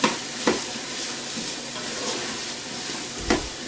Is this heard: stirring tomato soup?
yes